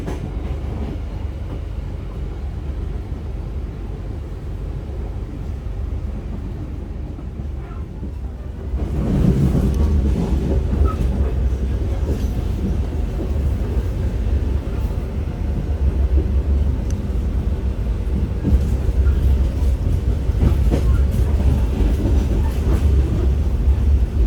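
The Singasari train rumbles steadily at a low pitch, growing noticeably louder and busier partway through as it rolls into Lempuyangan station.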